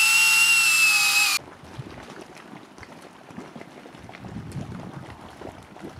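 A Bosch GSB 18V-150C cordless drill runs at a high, steady whine for just over a second and then cuts off abruptly, leaving faint rustling and handling noise.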